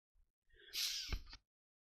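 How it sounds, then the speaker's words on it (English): A single close sneeze, a quick sharp intake followed by a hissing burst, in otherwise quiet surroundings. "I had to sneeze."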